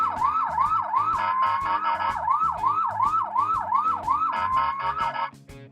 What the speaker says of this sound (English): We have a little siren.